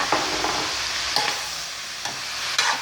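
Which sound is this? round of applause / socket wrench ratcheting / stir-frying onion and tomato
stir-frying onion and tomato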